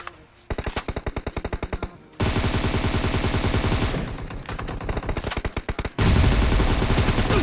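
Automatic gunfire in the video game PUBG comes as loud, rapid bursts of machine-gun shots, with short pauses between volleys and no voices.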